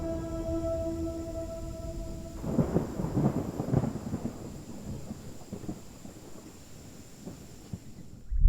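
Thunder rumbles and cracks through a forest as a storm approaches, with rain and wind hiss beneath; a sustained rolling burst builds after a quieter start, then fades into steady storm noise with a gust at the end.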